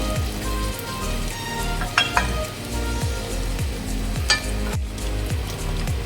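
Ginger and garlic sizzle while frying in a pan, a steady loud crackling hiss with occasional utensil clinks and stirring scrapes, no voices.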